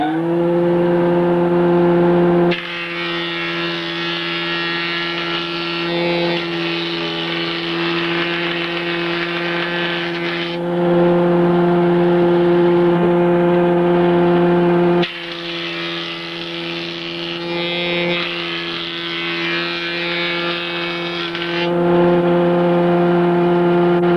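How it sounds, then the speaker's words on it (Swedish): A jointer-planer machine runs steadily with a strong tonal hum while a wooden strip is fed through it in two long passes, each louder cutting stretch rising over the idling drone, close and loud with no talk. "Då har jag här en rikt- och planhyvel. Och så den här listen ska vi ta och köra jämtjock, plana den som det heter."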